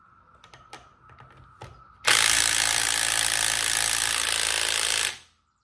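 A Ryobi ONE+ HP 18V brushless cordless compact 3/8 in. impact wrench hammers at a higher setting, a loud, dense rattling burst lasting about three seconds after some light clicks and handling noises, then stopping abruptly.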